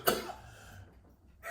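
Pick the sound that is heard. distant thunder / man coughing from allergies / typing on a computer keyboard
man coughing from allergies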